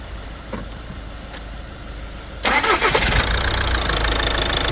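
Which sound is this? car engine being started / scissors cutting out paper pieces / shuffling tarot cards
car engine being started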